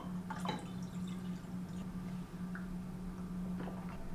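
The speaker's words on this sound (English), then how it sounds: "now dilute it with some more water" Water pours and drips into a hydration drink to dilute it, a few soft close splashes and trickles over a low steady hum, quiet overall with no talking.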